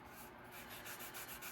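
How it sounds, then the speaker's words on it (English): Quick sanding with a 400-grit sanding block on a trifold, a soft, quiet back-and-forth rubbing lasting just over a second, with no voices. "Give it a quick little sand, like so."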